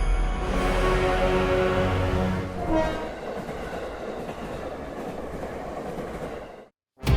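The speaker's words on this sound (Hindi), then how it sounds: "मैडम ट्रेन का शोर इतना था कि ठीक से कुछ सुनाई नहीं दिया" A train runs on rails with a loud, continuous rumble and clatter of wheels that eases slightly midway, then cuts to near silence just before the end, with no one speaking.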